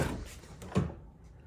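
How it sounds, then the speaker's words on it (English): A car door is opened during a door check repair, giving a short mechanical clunk about midway through a brief, quiet moment with no talk. "we're gonna open up the door"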